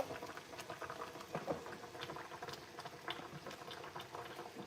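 Okro soup boils in a pot, giving a faint, steady bubbling and popping patter that continues without pause, close by and with no voices.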